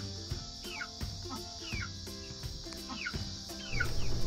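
Soft, repeated clucking from chickens nearby, with a low steady background hum and occasional knocks.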